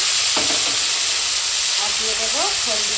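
Cut bitter gourd pieces hit a hot pan and sizzle in a steady, loud hiss that fills the whole stretch, with a brief murmur of a voice near the end.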